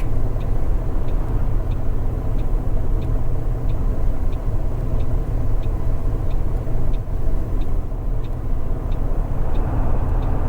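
Car passing in the Fernbus bus simulator video game on a North Germany route, a steady engine and road drone with faint regular ticking, swelling slightly toward the end.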